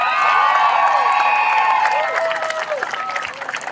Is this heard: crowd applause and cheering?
yes